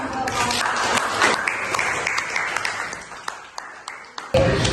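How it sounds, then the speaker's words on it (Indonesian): A school classroom audience breaks into applause, a short burst of mixed clapping that rises and then thins out over a few seconds, with voices heard alongside it. "Beri aplaus."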